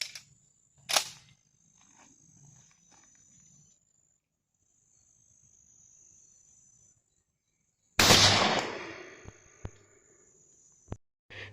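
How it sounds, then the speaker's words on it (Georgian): A Stoeger M3000 Beccacia shotgun fires 32-gram shells through an external choke during a test. There are two sharp, loud blasts several seconds apart, each followed by a brief decaying crack, with quieter rustling in between. "ესეც ბოლო გასროლა უკვე"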